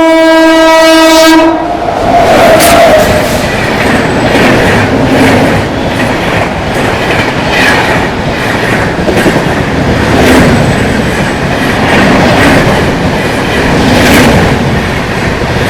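A high-speed train passes through Hoodi Halt station, opening with a loud sustained horn blast, then a steady roaring rush of wheels and carriages close by with faint rhythmic clatter running on throughout.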